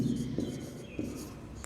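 Pen writing on paper as the date is put down, a quiet, continuous scratching rub with a few short strokes that start and stop. No voice is heard over it.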